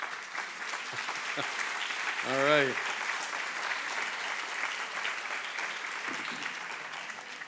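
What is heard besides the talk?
audience clapping hands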